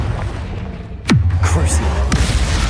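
A single heavy boom from the Confringo blasting spell in the video game Hogwarts Legacy, preceded by a sharp whooshing cast and followed by a deep, lingering rumble with scattered impacts.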